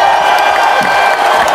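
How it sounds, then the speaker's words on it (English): A school celebration assembly audience breaks into loud, dense applause with cheering and whoops, a steady wash of clapping filling the hall. "Round of applause!"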